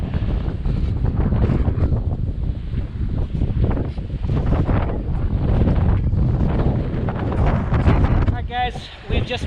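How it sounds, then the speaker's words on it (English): Strong wind buffets the microphone on a volcanic mountain summit in freezing, snowy conditions, a loud continuous roaring rumble that barely lets up, with a brief lull near the end. "Really windy up here."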